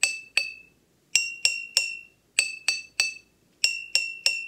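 Glasses partly filled with water, played as a homemade instrument, are struck one at a time in quick groups, each giving a bright ringing clink that fades quickly, with short pauses between phrases and no voices.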